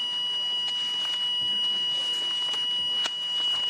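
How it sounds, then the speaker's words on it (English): A fire alarm going off in a television studio during a live news broadcast, a steady high electronic tone sounding continuously under faint background noise, fairly loud, with no clear talk. "Occasionally you get fire alarms which can interrupt broadcasting"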